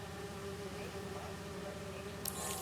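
Bees in the Spider-Man 2 video game buzz in a steady, faint drone that hums continuously throughout, with no talking over it.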